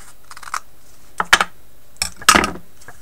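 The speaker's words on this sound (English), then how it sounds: "with my scissors I'm going to trim off the excess" Scissors trimming the excess off a mini canvas: a few short, crisp snipping and clicking sounds in small clusters, close and clear with no talking.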